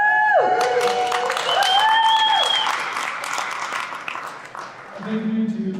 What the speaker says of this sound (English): Round of applause for our young panelists here.